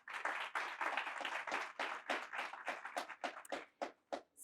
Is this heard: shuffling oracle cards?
no